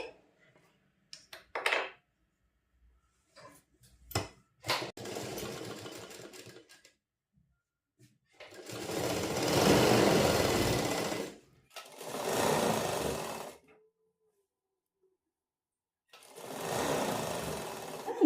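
A sewing machine stitches a slit pencil pant, running in several bursts of rapid rattling needle strokes with silent pauses between, close and fairly loud.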